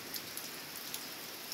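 Steady rain falls outdoors in natural surroundings, a dense continuous hiss with scattered louder drops ticking through it, moderately quiet and alone without any voices.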